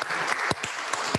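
A church congregation claps for a couple's 40th wedding anniversary, a steady dense round of applause filling the room with a few sharper claps standing out.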